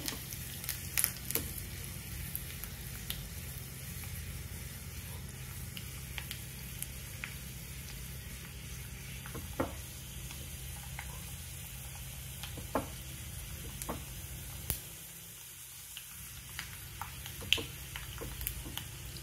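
Curry leaves crackling in hot oil for a tempering over a lentil dish with drumstick leaves and amaranth, faint continuous sizzle with scattered sharp pops, no talking.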